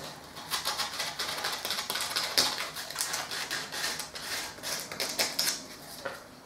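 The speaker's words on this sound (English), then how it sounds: "Some 120 sandpaper. I can now just sand the areas where that foam was." Old paintwork is sanded by hand with 120 grit sandpaper in quick, rhythmic scratchy strokes, close and fairly busy, with no talk.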